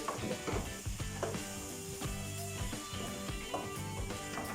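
Red onion and the white part of leek frying in a pan for dry fry pork. A steady soft sizzle runs throughout, with light stirring and scraping on top.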